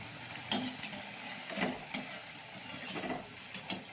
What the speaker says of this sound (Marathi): गरम करून घ्यायला मोठा गॅस करायचा आणि चार चार पाच पाच असे तळून घ्यायचे